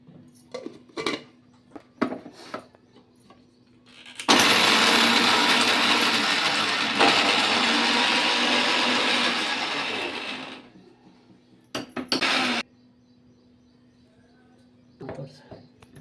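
A mixer grinder blends masala with salt for stuffed okra fry, running as one loud, steady roar for about six seconds, then in two short bursts, with clinks and clatter before and after.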